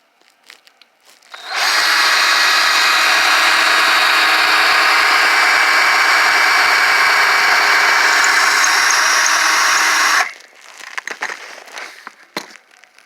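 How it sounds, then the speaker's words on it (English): A power drill whines loudly and steadily for about eight seconds, drilling out a metal rivet on a suitcase wheel axle, followed by quieter clicks and handling sounds. "So I'm going to end up drilling this rivet out too."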